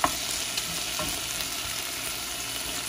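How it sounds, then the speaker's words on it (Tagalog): Garlic, onion and tomato sauté in a pan, giving an even, moderately quiet sizzle that holds for a few seconds with no voices. "ginisa ko yung bawang, sibuyas at kamatis"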